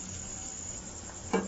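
Onions for handi kabab fry in a pan with a steady, fairly faint sizzle, and a brief louder scrape of stirring near the end.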